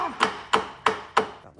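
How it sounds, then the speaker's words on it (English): A hammer strikes a car wheel hub, knocking it off the suspension strut of a salvage car: four sharp metallic blows, evenly spaced and close, with quiet gaps between them. "Now we can use the hammer to try and hammer the hub off the strut."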